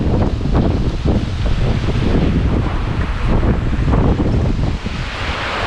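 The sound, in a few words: rain and wind on an expressway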